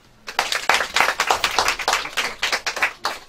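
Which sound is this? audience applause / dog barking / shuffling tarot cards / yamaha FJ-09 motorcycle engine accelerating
audience applause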